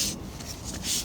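A sanding machine rubs back and forth against wooden hexagon shelves in short rasping strokes, close up, with a scratchy rhythmic texture.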